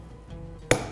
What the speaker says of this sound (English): popping the bone, removing it